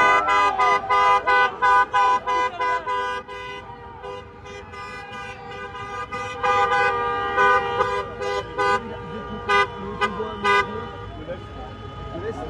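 Cars in a convoy honk repeatedly along a busy street near Place de la Concorde in Paris, with horn blasts in quick bursts and overlapping toots, loud and close, amid traffic and crowd noise with people talking.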